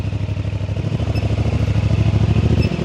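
A CFMOTO 450MT motorcycle engine idles steadily during warm-up, close by, with a fast even pulsing beat and faint mechanical clatter running throughout.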